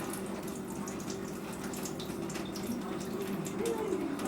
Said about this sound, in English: So I'm just gonna rinse off the excess water which I had kept for soaking.